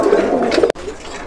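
Fancy pigeons at a pigeon sale coo in soft, repeated throaty calls close by, with a brief break near the end before the cooing resumes more faintly.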